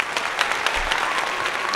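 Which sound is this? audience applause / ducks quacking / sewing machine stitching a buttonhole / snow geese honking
audience applause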